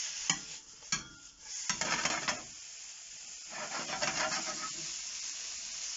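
Pasta with garlic, oil and chili cooks in a pan, with close scraping stir strokes over a soft continuous sizzle and a few sharp clacks of a utensil against the pan.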